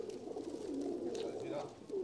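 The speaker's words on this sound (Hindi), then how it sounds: "ये गुड़क रहा है," Low, throaty cooing from a red-eyed pigeon rolls on steadily for a couple of seconds, close by, with faint background chatter.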